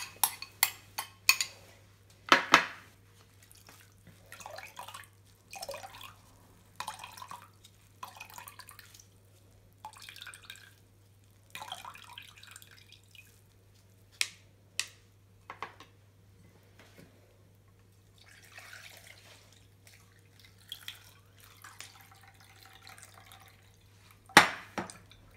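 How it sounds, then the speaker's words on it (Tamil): Soaked coconut being squeezed and filtered to extract coconut milk for payasam, with faint intermittent drips, splashes and soft clinks of utensils in a quiet kitchen, no talking. "இப்போ தேங்காய் நல்லா ஊறி இருக்குது. அதனால் ஃபில்டர் பண்ணி எடுத்துக்கலாம்."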